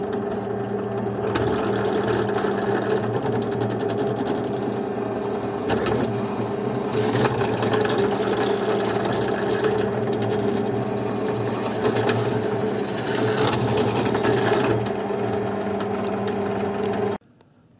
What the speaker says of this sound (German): So, jetzt bohre ich pro Segment zwei Löcher hier einfach rein.